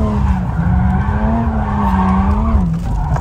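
A car brakes hard and its tires skid with a loud, sustained squeal over the engine, steady for about three seconds before easing at the end.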